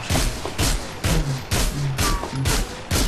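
Repeated bursts of loud gunfire from a weapon in the game GTA, about six heavy blasts in a steady rhythm roughly every half second, with no talking.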